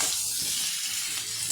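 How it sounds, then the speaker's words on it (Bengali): Spices with turmeric, cumin powder and slit green chillies sautéing in a pan for a thin fish curry with bitter gourd and potato, a brief, steady, hissing sizzle heard up close without speech. "ভালো করে মশলাটা কষিয়ে নেব।"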